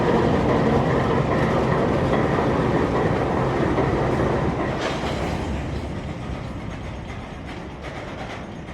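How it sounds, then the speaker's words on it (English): An empty Florida Rock freight train rolls past a hillside near a street crossing, loud and close with steady rumble and clickety-clack of wheels over rail joints, slowly fading as the cars pass, no voices. "K724, an empty Florida rock train out of Taft bound for Augusta, Georgia."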